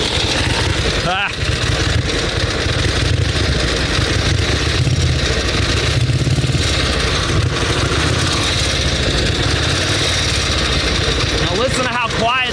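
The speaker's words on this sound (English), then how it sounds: "Now listen to how quiet this motor is, Steve." A 1916 Harley-Davidson motorcycle engine idles with a steady, close chugging beat that runs throughout, while someone talks over it in short phrases.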